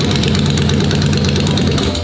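Straight-piped, forced-induction Triumph motorcycle engine running loud and close, a steady deep rumble with a rough, pulsing idle and harsh exhaust roar throughout.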